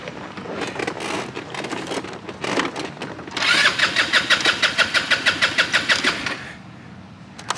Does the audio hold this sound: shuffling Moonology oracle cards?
no